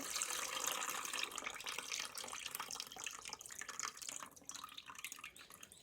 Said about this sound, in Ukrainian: беремо каструльку і сюди в каструльку зливаємо наш, нашу водичку